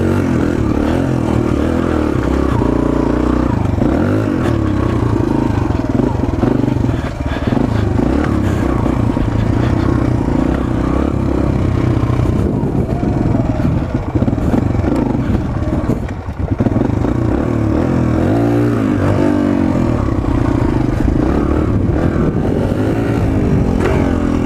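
Suzuki DR-Z 125L dirt bike engine revving hard during a wheelie attempt, a loud continuous buzzing drone with rising and falling throttle and some rattling clatter, no voices.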